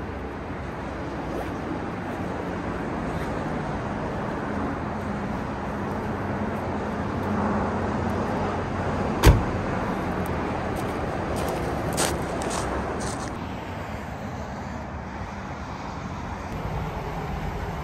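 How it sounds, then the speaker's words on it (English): Highway traffic running beside Goldstream Park near Mt Finlayson, a continuous distant roar of passing vehicles with one sharp click midway and no talk. "You can probably hear the traffic. It's just off to my left."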